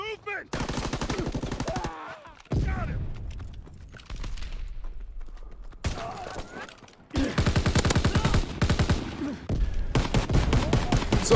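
M1 Garand rifle gunfire in an Xbox shooter game: dense bursts of rapid shots in several volleys with short pauses between, loud and close, with a voice speaking briefly among them.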